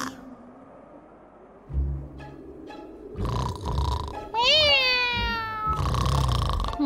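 A cartoon cat gives a couple of sharp, rising meows in the second half, mixed with bursts of other cartoon sound effects over a quiet backdrop.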